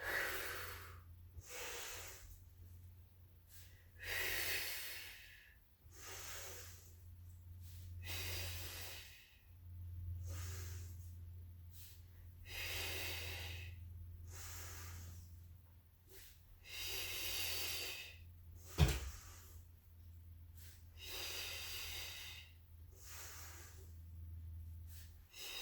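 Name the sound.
deep breathing during Pilates exercise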